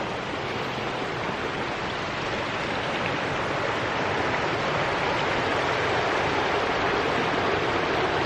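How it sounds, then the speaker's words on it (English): A small man-made waterfall beside a creek gives a constant, dense rush of falling water, steady and fairly loud throughout with no break. "it's like a little man-made waterfall over there"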